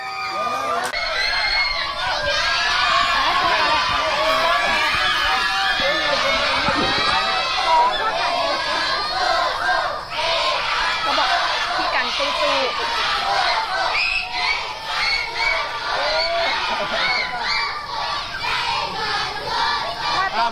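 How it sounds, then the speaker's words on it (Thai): A dense crowd of schoolchildren at a school sheltering flood evacuees shrieks and cheers continuously at a celebrity's arrival, a loud, sustained high-pitched roar of many overlapping voices with no pause. "กรี๊ดกันสนั่นหวั่นไหวตอนเจอพี่กันค่ะ"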